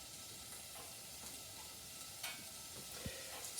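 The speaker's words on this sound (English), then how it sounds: "the bacon is starting to fry out nicely, render up" Bacon frying in a pan on a fuel-fired stove in a Pennsylvania Dutch kitchen, giving a soft, steady sizzle that stays fairly quiet throughout, with a few small pops near the end.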